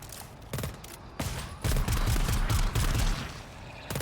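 Rapid automatic gunfire in the shooter game GTFO, loud bursts of fast shots after a few single clicks and thumps, with no talking.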